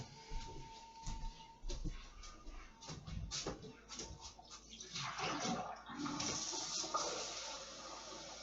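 Tap water running and splashing as a painting water cup is emptied and refilled, a steady rushing flow with brief clatter, continuous and fairly close, building louder toward the end.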